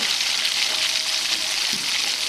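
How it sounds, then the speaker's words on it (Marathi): Soya chunks frying in a pan with onion, tomato and spices, a loud, steady close-up sizzle that carries on without a break and with no talking. "चांगलं परतून घ्या."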